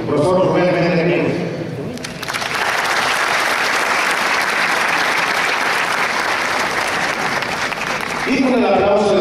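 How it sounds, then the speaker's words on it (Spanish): An audience at an education union panel breaks into loud, sustained applause, steady and dense for several seconds, with speech heard just before it begins and again as it ends. "Y con el aplauso de todos los presentes"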